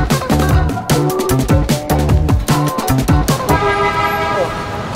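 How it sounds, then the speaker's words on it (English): Car horns honking in busy street traffic outside an airport in Singapore, several loud toots and longer blasts overlapping in quick succession close by, with traffic noise underneath. "The honking has already started."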